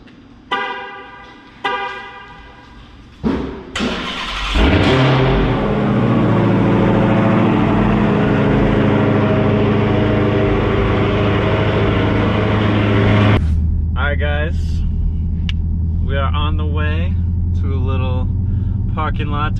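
A car engine cranks and catches, then settles into a loud, steady idle with a rough rumble for about ten seconds before cutting off. A few short horn toots come first, and people talk briefly after the engine stops.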